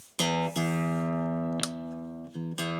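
A warm, round electric guitar on the neck pickup in series-parallel mode strums a few chords, each left to ring for a moment before the next. No voices.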